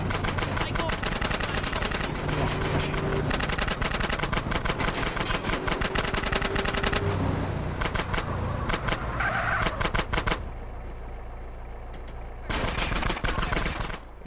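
Rapid bursts of gunfire in GTA San Andreas on mobile crackle almost continuously, with automatic fire and engine noise, pausing briefly near the end before another burst.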